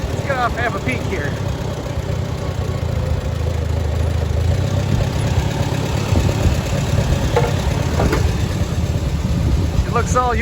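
A tractor engine idles steadily close by, a constant low chugging rumble, with some voices faintly over it.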